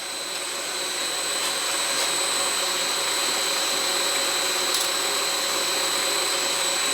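A belt grinder grinding the plunge line on a knife made from a file, a steady, unbroken high hiss and whine that holds at an even level throughout.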